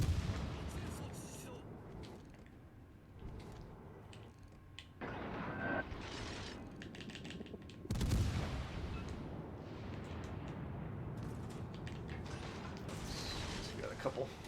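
Warship guns fire in a World of Warships Legends naval battle, heavy booming shots landing over a dense, busy mix of game sounds with mechanical creaks and rumbling.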